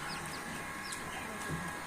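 A sick chicken chick gives faint, high, thin peeps, a few scattered chirps over a steady low background hum, with no clear voices.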